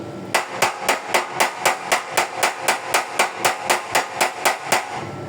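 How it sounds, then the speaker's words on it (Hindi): Rapid, evenly spaced hammer taps chip hardened flux off an arc weld on the inner bumper support of an 1989 Toyota Crown, about sixteen sharp metallic strikes in steady rhythm, close and loud with no talking. "जब हम इसके ऊपर से जो इसका फ्लक्स है ना जो जम जाता है उसको झाड़ेंगे"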